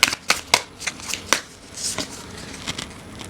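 A deck of tarot cards is shuffled by hand, giving a quick series of crisp riffling flicks close to the listener.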